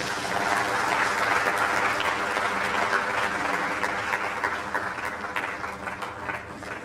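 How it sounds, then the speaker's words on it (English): An audience applauds a guest speaker with continuous, fairly loud clapping over a low room rumble, holding steady and easing slightly toward the end. "Another round of applause for our guest speaker"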